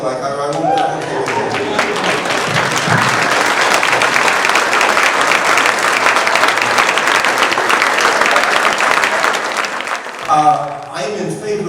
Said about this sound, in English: you may applaud if you like.